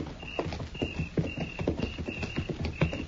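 Horses' hooves clip-clop in a steady walking rhythm on a hard surface as a radio-drama sound effect in an Old West town, close and fairly loud with a faint high hiss running over it.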